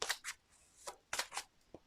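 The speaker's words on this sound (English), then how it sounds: "We'll just give it a couple more shakes." Tarot cards being shuffled and shaken, heard as several quick crisp riffling bursts separated by short pauses, close and fairly quiet with no talking.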